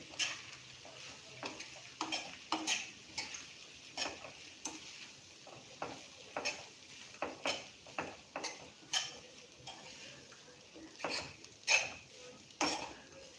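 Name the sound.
stirring washed poha in a pan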